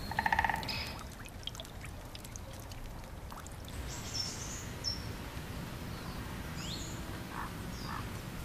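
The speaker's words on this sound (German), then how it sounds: "Der Selbig ist einer von vier kleinen Bächen, die alle im Waldgebiet nahe der Kurklinik Aukrug entspringen." A small forest brook, the Sellbek, flows in a steady low trickle and gurgle through woodland, with scattered bird chirps and calls above the water noise.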